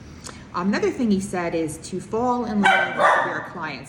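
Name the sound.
dog barking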